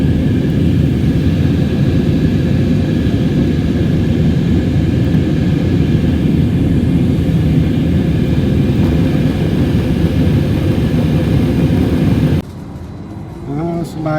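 An aircraft at Orly airport in Paris roars loudly and steadily for a long stretch, a constant dense engine drone that cuts off abruptly near the end.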